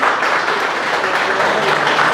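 Audience applause at a Nepali youth council event, dense and steady throughout, fairly loud and close with no break.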